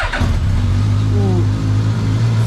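A Suzuki GSX-S1000GT motorcycle engine starts at a one-touch button and settles into a steady, loud idle, its low rumble continuing close by without pause.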